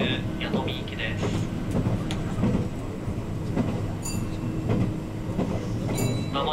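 A Meitetsu Panorama Car express train runs steadily on the rails with a continuous low rumble and rhythmic wheel clatter, interior recording with occasional faint squeals and an onboard announcement voice heard over the running noise.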